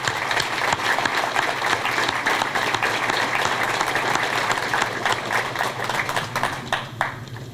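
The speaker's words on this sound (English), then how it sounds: "Let's give her a round of applause." An audience at a Portland Public Schools graduation ceremony claps in sustained, dense applause that holds steady and then begins to thin out.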